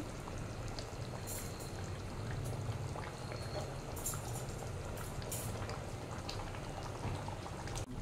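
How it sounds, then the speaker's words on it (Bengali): Chana paneer masala bubbling steadily in a pan on a high gas flame, a continuous soft, busy simmer with faint pops, close and unbroken throughout, with no talking. "জাস্ট হাই ফ্লেমে 1 মিনিট মতন ফুটবে"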